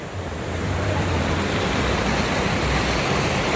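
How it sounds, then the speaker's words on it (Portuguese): Water pours steadily over the spillway of the Poço Verde reservoir in Itapipoca, Ceará, a loud, continuous broadband roar of rushing, falling water close to the microphone with no voices. "Tem uma força porque é uma caída d'água"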